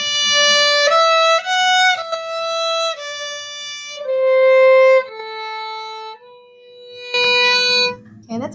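Bowed string instruments play a slow passage in third position, sustained notes changing step by step with short breaks between them, clear and close with no talking.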